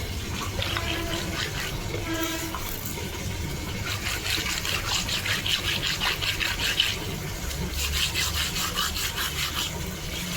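Raw fish, including a large fish head, being scrubbed and rubbed by hand with water, giving repeated rhythmic scraping and rubbing strokes up close over a wet background.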